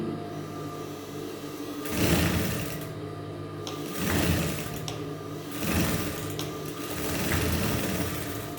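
A sewing machine stitches a petticoat during tailoring, running in steady bursts of fast whirring stitches separated by short pauses, close and clear with no talking.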